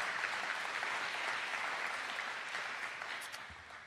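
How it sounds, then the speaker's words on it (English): An audience at a school fall sports parent meeting gives a steady round of applause, dense clapping that holds evenly before tapering slightly at the end. "Let's give Coach Charlie LaWarne a nice round of applause."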